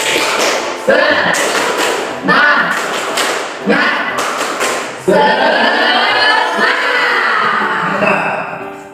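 A classroom of students performs a rhythmic spirit clap, with sharp bursts of hand claps and thumps in a patterned sequence, loud and close, with voices mixed in.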